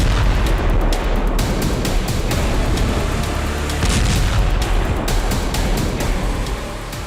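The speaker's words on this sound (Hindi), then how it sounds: "एक ड्रोन हाई राइज बिल्डिंग के सबसे नीचे वाले फ्लोर पर टकराया, जिसके बाद जबरदस्त विस्फोट हुआ।" A Russian drone strikes the lowest floor of a 16-storey high-rise in Kyiv, and the explosion comes across as a loud, dense, continuous roar with rumbling bursts and no clear gaps.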